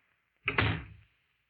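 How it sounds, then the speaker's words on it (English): A door being closed as a radio drama sound effect, a single firm thump with a short latch rattle, close and clear against silence. "Close the door."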